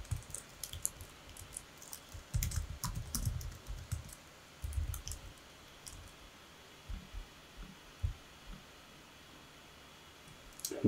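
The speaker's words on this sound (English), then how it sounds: "we're going to type in keep me signed in" Fingers type on a computer keyboard, faint clustered clicks coming in quick irregular bursts with short pauses between them, close and quiet.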